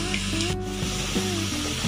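Fish egg koftas bubble and crackle in hot oil, a steady nearby sizzle with some scraping movement in the pan.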